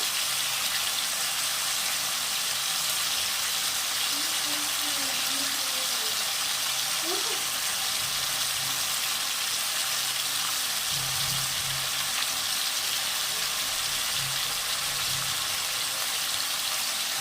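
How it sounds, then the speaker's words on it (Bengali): Spice paste going into a frying pan of vegetarian Malabar spinach with potato and pumpkin: a soft, steady sizzle under a constant background hiss, fairly quiet throughout. "এবার আমি এই বাটা দিয়ে দেবো"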